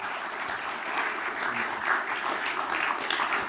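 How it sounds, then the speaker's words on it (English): Audience applause at a London film premiere Q&A for a film about Don Lewis and the Live Electronic Orchestra, a steady dense crowd clapping held at an even level throughout, with no talking over it. "Round of applause for that."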